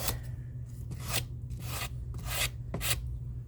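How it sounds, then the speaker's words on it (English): Small hand sanders rub back and forth on a craft piece in repeated rasping strokes, about six bursts in a few seconds, close and fairly loud over a low steady hum, with no talking. "But I think these little sanders right here are just as easy."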